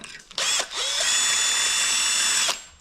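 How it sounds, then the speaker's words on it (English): A power drill bores a hole through a car's cruise control bracket, a single steady whining run of about two seconds that starts with a brief stop-and-start burst and ends abruptly, loud and close. "I need to drill a second hole into the new cruise control bracket because the holes don't line up"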